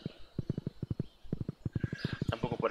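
Steady clip-clop of horse hooves in the farming game Stardew Valley, a quick even rhythm of close, moderately quiet steps with a short pause midway, joined near the end by a brief fainter rustle.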